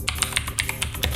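Rapid keystrokes clatter on a computer keyboard, about a dozen crisp, close taps in quick irregular succession with no talk.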